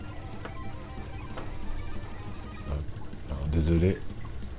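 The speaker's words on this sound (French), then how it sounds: "c'est pour quand le caméléon passe devant, ça se met en route et sa fontaine coule." A small water fountain trickles and splashes inside a chameleon's flexarium enclosure, switched on by a motion detector, heard close but fairly faint under someone talking in French.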